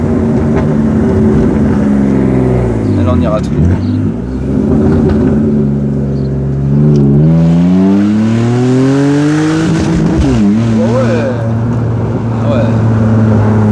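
Drift car with a stiff chassis heard from inside, its engine loud and close, droning then repeatedly revving and accelerating with rising pitch sweeps, under occupants talking.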